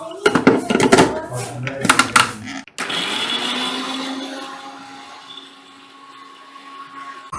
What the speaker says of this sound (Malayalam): നമ്മൾ അതൊന്നെടുത്ത് മിക്സിക്കകത്തിട്ട് നന്നായിട്ടൊന്ന് അടിച്ചെടുക്കാം